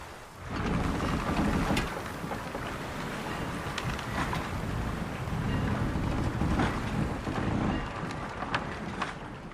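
Sailing ship at sea in The Witcher 3, heard as a steady, loud wash of wind, rain and sea spray with low rumbling swells and occasional creaks, continuous and without speech.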